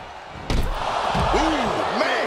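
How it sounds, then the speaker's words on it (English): A heavy chokeslam impact in the wrestling video game WWE 2K24, a loud thud onto the ring mat followed by crowd noise and a commentator's voice. "Choke slam. That could be curtains for Wendy."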